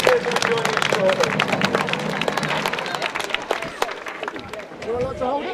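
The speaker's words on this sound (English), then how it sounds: "Give them a round of applause, ladies and gentlemen" An outdoor crowd applauds Civil War re-enactors at a Wigan event, a burst of scattered clapping that thins out, with voices talking over it.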